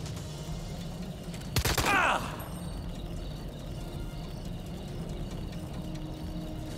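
Gunfire in the tactical video game Jagged Alliance: Rage, heard as a single sharp burst of shots followed by a brief ringing tail over steady background ambience.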